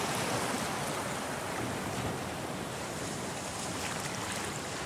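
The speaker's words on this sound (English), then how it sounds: "the sound of water right out of the gate" Continuous broadband rushing of water, like surf washing steadily, opening an instrumental song, fairly quiet and even throughout with no voices.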